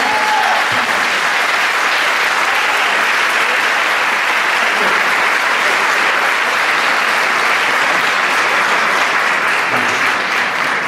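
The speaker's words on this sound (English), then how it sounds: "try to keep the applause and cheering down" Audience at a public education community meeting applauding and cheering, a loud, dense, sustained roar of clapping from start to finish.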